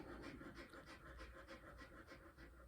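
A dog pants steadily just after a walk, rapid rhythmic breaths, close by and fairly quiet, with no talking.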